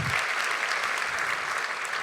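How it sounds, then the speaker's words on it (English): An audience applauds at a conversation event, producing a dense, steady wash of many hands clapping close by with no break. "Big round of applause."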